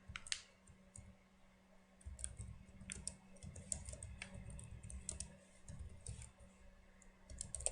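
Computer keyboard typing comes in quick, close clicks and short bursts of keystrokes over a low background hum, with brief pauses between runs.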